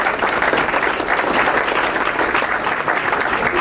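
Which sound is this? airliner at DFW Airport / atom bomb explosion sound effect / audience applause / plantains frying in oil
audience applause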